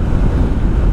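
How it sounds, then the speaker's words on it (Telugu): Strong gusty wind buffets a rider on a lightweight motorbike heading from Pangong toward Ladakh in rainy weather, a loud, steady low roar against the microphone with no talking. "గట్టిగా అయితే గాలిలు వస్తున్నాయి."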